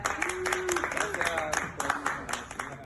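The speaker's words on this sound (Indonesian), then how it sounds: "kita kasih tepuk tangan buat kemuliaan nama Tuhan" A church congregation claps together in a steady scattered patter of many hands, loud and close, with a voice speaking and calling out over the applause throughout.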